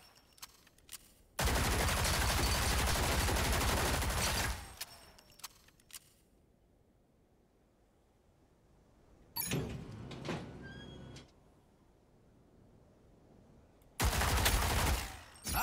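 Turrets and a player trade gunfire in the video game Rogue Company: a long dense burst of automatic fire, a quieter stretch with scattered shots, then another loud burst near the end.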